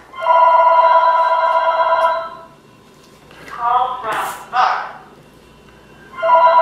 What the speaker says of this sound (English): They really think we got time to answer a phone now?